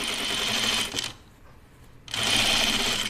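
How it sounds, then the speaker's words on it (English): Sewing machine stitching an Amelia dress runs in two loud, steady bursts separated by a brief quiet pause, with a fast clattering needle rhythm. "It feels really weird to sew with this on the right side"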